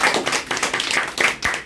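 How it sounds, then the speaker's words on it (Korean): An audience claps together in a burst of applause welcoming a guest to a talk on local consumption in Korea, dense and steady handclaps close up for under two seconds. "우리 좀 크게 박수를 한번 환영해 주시죠"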